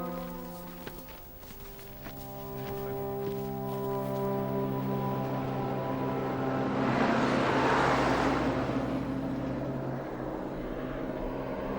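A truck rolls across the open Mongolian steppe, its steady engine drone and cabin rumble filling the space with a continuous low hum that swells slightly midway, with no talk over it.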